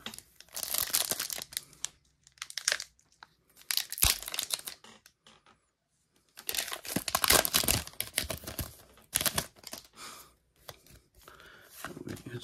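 Pokémon Paldean Fates card packs being torn open and cards handled, bursts of crinkling foil and tearing wrapper alternating with short quiet gaps, close and fairly loud with no talk.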